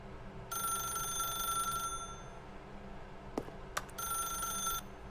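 A telephone rings in The Stanley Parable video game, two bursts of bright electronic bell ringing separated by a pause, with a couple of faint clicks in between and no talk.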